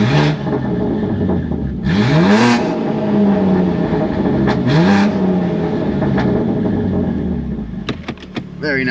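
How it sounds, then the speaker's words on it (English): A BMW G82 M4 exhaust revs loudly up close, with two sharp rising blips falling back to a steady idle rumble, followed by a few crackles near the end. "Little exhaust rev for you guys."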